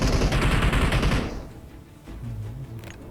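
Heavy rapid gunfire in PUBG Mobile, loud and close, cutting off after about a second and a half into quieter ambient game sound.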